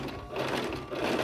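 Sewing machine running a straight stitch while assembling the front and back pieces of a Gomez Addams costume, steady continuous whir and needle chatter at moderate level, no talk.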